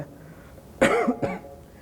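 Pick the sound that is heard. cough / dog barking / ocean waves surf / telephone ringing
cough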